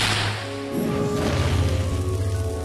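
A spell bang in the Harry Potter Deathly Hallows video game, a sudden crash followed by a dense rumbling, tonal roar that swells and holds near and loud, with no talk.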